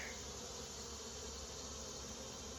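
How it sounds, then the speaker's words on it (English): Bees swarming in the air around a hive during hive combining, a continuous dense buzzing drone at low level, steady and unbroken with no voices. "there's quite a few bees in the air, but they'll eventually figure it out"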